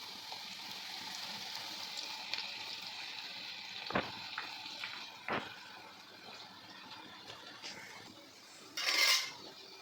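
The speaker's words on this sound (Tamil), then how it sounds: "இப்போ எண்ணெயில் அப்படியே லைட்டாக பிசைஞ்சா மாதிரி விட்டுருங்க." Onion pakoda dough frying in hot oil gives a steady, faint, bubbling sizzle, broken by a few sharp metallic clinks of a utensil against the pan and a brief louder splash near the end.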